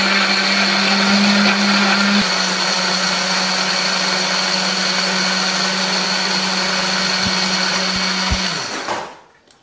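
A blender grinds chili, shallots, garlic, ginger and a little water into a paste, a loud steady motor whir running continuously for about nine seconds before spinning down and stopping at the end.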